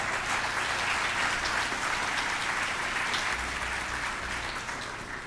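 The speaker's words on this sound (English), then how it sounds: "Let's give her a round of applause." At a celebration of student achievement, an audience gives a student a round of applause, heard as a steady, even wash of clapping from a large crowd that fades slightly toward the end.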